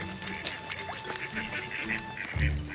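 Ducks quack at a pond, a run of nasal calls close by with faint murmuring voices underneath and a low thump near the end.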